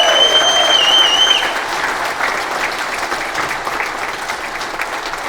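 A crowd at a Limerick independent candidate's campaign launch claps and cheers in a dense, steady roar, with sharp whistles rising above it at the start before the applause settles slightly.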